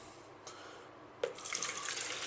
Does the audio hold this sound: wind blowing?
no